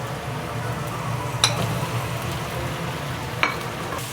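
Loofah stir-fried with dried shrimp, scallion and garlic hisses in a wok as a steady, close sizzle, with two sharp scraping clinks of the spatula breaking through the continuous frying.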